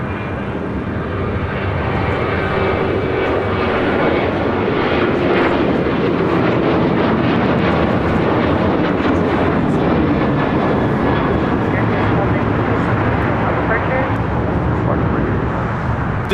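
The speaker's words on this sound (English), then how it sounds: "This is American Airlines 1292 taking off to Nashville, Tennessee on a 737-800." An American Airlines Boeing 737-800 takes off at LAX, its jet engines roaring loudly and steadily throughout with a broad, sustained rumble; voices can be heard faintly under the engine noise.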